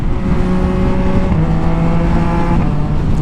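A Yamaha MT-09 motorcycle engine pulls hard at high RPM, a dense, loud, continuous roar with pitch steps as gears shift, heavy wind rush layered over it.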